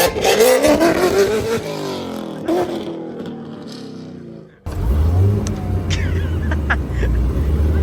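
A Corvette Z06 launches hard at 7,000 rpm with its tires spinning: a loud, rising engine howl, a brief drop near the middle, then a sustained heavy roar with low rumble through the rest.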